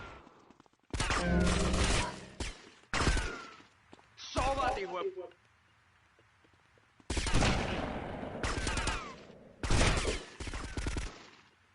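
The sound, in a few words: gunfire in GTA Vice City video game, Tech 9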